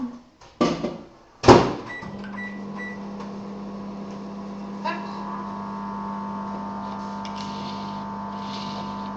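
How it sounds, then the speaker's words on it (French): A kitchen microwave oven set to 500 watts melts milk chocolate. A door clunks shut and buttons click, then a steady, close electric hum runs under faint background noise. "je vais remettre la dernière partie de chocolat au lait à fondre encore au micro-ondes, 1 minute 30 à 500"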